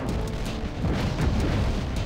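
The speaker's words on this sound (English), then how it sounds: "I just kind of fired all four missiles" Missiles launching and bursting in an Atari-style arcade game, a dense continuous rumble of booms and pops running steadily throughout with no pauses.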